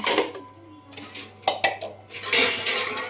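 Dishes and metal utensils clatter and clink in irregular bursts as they are handled nearby, with brief quiet gaps between clusters.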